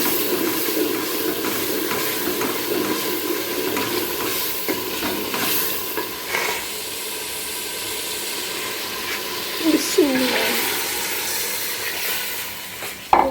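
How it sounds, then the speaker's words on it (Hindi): Water is poured into ghee-fried masala in a cooking pot, setting off a steady sizzle and bubbling with a few clinks of utensils, and no voices. "अब इसमें पानी डालूंगी"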